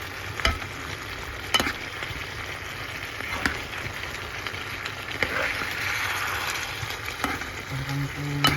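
A spoon stirs squash and malunggay leaves with shrimp simmering in coconut milk in a pan, making a steady soft bubbling sizzle with repeated scraping clicks and knocks throughout.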